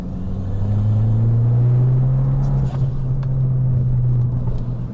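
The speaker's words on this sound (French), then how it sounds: "On entend vraiment siffler assez fort le turbo." A Fiat 500 Abarth with a 170 hp turbocharged engine accelerates from inside the car, giving a loud, steady engine drone that climbs in pitch with a faint high whine above it, with no talking.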